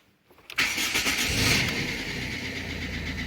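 A Ford Fiesta with a faulty ignition switch contact group, one that stalls while driving, is started with the key. After a brief quiet crank the engine catches with a sudden burst, then settles into a steady, close idle.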